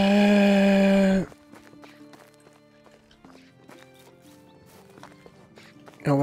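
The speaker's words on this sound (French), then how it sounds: "je vais pouvoir avoir, comment dire, la possibilité de me déplacer à cheval" Horse hooves clip-clopping in the medieval video game Medieval Dynasty, a loud whinny opening the clip, then a steady walking rhythm of hoofbeats over soft background music.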